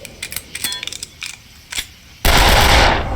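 Gunfire in the video game Darkest of Days: scattered sharp clicks and light shots lead into a sudden loud, sustained burst of shooting that rings out to the end.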